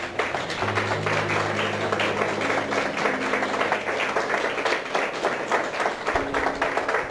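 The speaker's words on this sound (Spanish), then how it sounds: "¿Cuánto le pueden dar un aplauso al Señor?" A church congregation claps in a fairly quiet, sustained patter over held musical tones, the applause spread evenly across several seconds.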